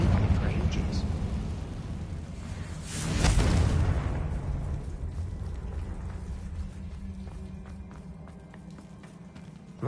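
The Confringo blasting spell in the Hogwarts Legacy video game, with a loud booming explosion swelling about a third of the way in and fading into a rumble, over game sound, with speech present.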